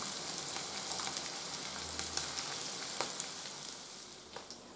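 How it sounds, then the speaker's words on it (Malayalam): Fish frying in a pan for a lunch side dish gives off a steady, close sizzle with faint crackles and pops and no voices. "ഉച്ചക്കത്തേക്കുള്ള ചോറിനുള്ള ഫ്രൈ റെഡിയാവുക. ഫിഷ് ഫ്രൈ എന്തായാലും പറയാം."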